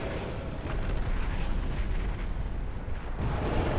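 Fire cone attack from a boss in the video game Dark Souls: a dense, continuous roaring blast like a sustained fiery eruption, loud and steady for several seconds with a brief dip near the end.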